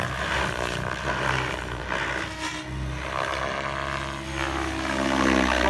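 An RC helicopter's rotor spins at about 1900 head speed, a steady buzzing whir with a low hum that rises and falls slightly as the model flies nearby.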